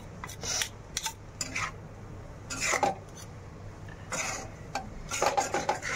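A kadai wobbles and rattles on a worn gas stove burner as spices are mixed for egg chow mein, giving clustered metallic clanks and scraping bursts between quieter gaps, close and moderately loud.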